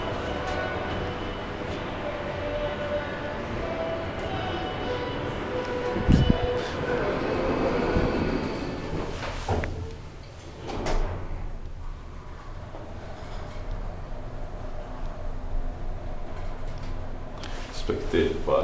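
An Otis traction elevator in a shopping center in Riga, Latvia, humming steadily as it runs, with slow doors sliding partway through; a low continuous drone with brief mechanical thumps.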